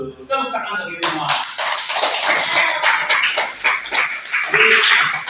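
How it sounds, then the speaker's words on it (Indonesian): A classroom group bursts into quick, dense clapping after a brief spoken moment, the applause continuing steadily and close by. "Tepuk tangan bagi semua."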